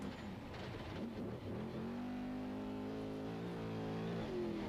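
Onboard engine roar from a Jimco all-wheel drive trophy truck racing in a Baja 500 qualifier, a loud sustained near drone with rising revving pitch and shifting harmonics throughout, with no talking.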